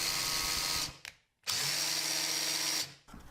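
A drill driver whines at steady high speed against a damaged Phillips head screw that will not budge, in two long bursts separated by a short pause, close up and loud.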